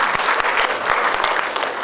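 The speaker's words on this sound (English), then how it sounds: "So please applause." An audience claps steadily at a Sharia event gathering in Southeast Asia, a dense, even wash of many hands filling the whole stretch at moderate loudness with a few sharper individual claps standing out.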